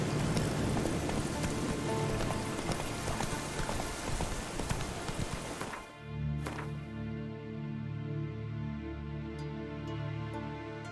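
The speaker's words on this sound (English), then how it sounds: "Looks like rain." Steady rain in The Witcher 3 video game hisses loudly for about six seconds, then cuts to a quieter scene with a low droning hum and a few faint taps.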